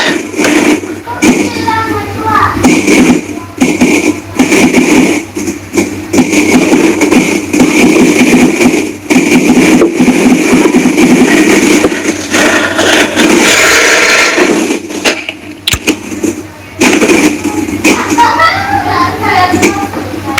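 Motorcycle engines run and idle at night with a steady mid-to-low rumble throughout, while people, including a child, talk over them.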